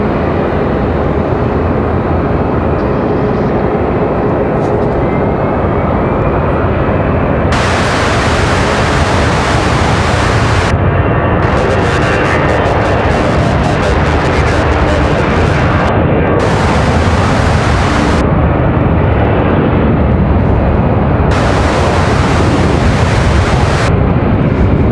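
A jet airliner departs Raleigh-Durham International Airport with a loud, continuous broadband roar that fills the whole stretch, rumbling and hissing steadily without pause or voices.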